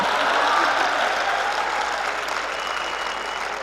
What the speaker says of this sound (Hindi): ताली बजाओ यार, ऐसे मत करो आप।